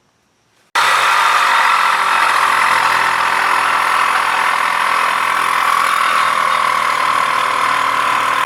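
A power tool cuts a part during a 4L80E transmission install in a third-generation Camaro; after a brief silence, a loud, steady, high-pitched grinding whine starts abruptly and runs on close by.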